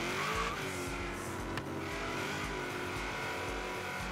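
BMW M3 E92 in Forza Horizon 3, a continuous loud engine drone with tire squeal and skidding during a drift, with no pauses throughout.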